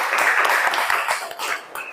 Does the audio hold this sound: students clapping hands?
yes